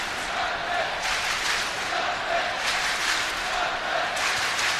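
A capacity stadium crowd of just over 25,000 at a Vålerenga versus Manchester United preseason football match, a steady, broad roar of massed voices with gentle swells, continuous for the whole stretch without any single standout voice.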